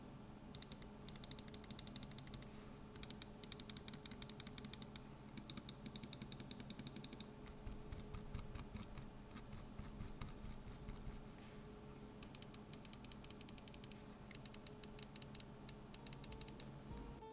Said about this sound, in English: Let's do a quick button check so you get an idea of the sound